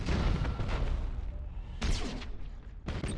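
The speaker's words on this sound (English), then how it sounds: "Fire all weapons!" Warship weapons firing in the video game Gothic Armada: a sustained heavy roar of booming cannon fire, with renewed loud blasts near the middle and at the end.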